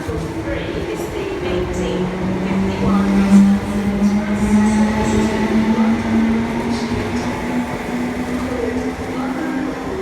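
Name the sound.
train arriving at platform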